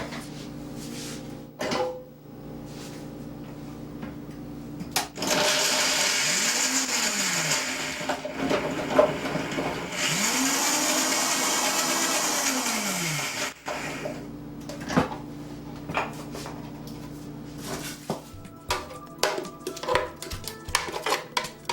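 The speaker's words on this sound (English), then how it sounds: "put them right in here and grind them right up" A kitchen blender grinds nuts for nut burgers in two sustained loud bursts, its motor pitch rising and falling as each run starts and stops, with dishes and utensils clinking softly between and after.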